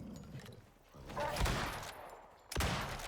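Gunfire in the video game Icarus: bursts of shots crack loudly, with a dense volley around the middle and another sharp burst near the end, and no talking.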